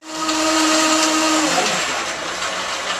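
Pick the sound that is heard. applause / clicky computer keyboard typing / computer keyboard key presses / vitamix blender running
vitamix blender running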